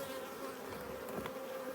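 Honey bees buzz in a steady, low drone, faint and continuous, with individual insects briefly rising louder as they pass close.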